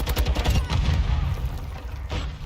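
Bursts of gunfire and a grenade blast in a multiplayer shooter video game, packed into a dense, rumbling stretch of overlapping shots.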